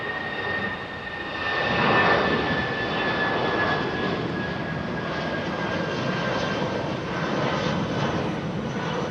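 Aircraft at London Heathrow airport, a steady broadband engine rumble with a thin high whine running through it, rising briefly then holding at a moderate level, with no talk.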